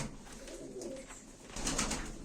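Tumbler pigeons coo close by, soft, low repeated calls over a faint background, with the cooing growing somewhat louder toward the end.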